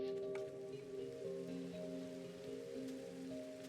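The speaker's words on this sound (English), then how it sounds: "Oh, and it's raining, of course it is." Steady rain falls in a video game, a soft continuous hiss heard faintly beneath a sustained low musical drone, with no talking.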